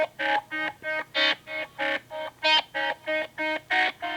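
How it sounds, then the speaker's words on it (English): A song with an extreme tremolo effect, its harmonic music chopped into about eleven evenly spaced pulses that swell and cut off in a steady rhythm, loud and alone with no talking. "Think back to 1999, and this is the sound of tremolo."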